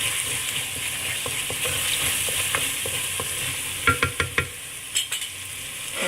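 A spoon scrapes and stirs a crab soup mixture in a pan. A steady sizzle runs underneath, and several sharp knocks against the pan come near the end, with no talk.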